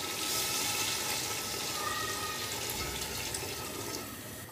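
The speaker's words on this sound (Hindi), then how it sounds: "तो अब इसके अंदर हमने पानी डाल देना है।" Water is poured into a pot of fried meat while making chicken pulao, a steady rushing splash that runs for about four seconds and tapers off at the end, with no talking.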